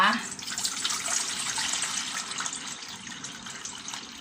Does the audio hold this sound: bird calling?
no